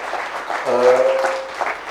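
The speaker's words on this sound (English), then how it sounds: "please give a warm round of applause to the young speaker" A short burst of audience applause, dense clapping with a brief tonal whistle or hum in the middle.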